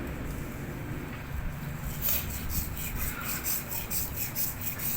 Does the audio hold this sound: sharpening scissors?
yes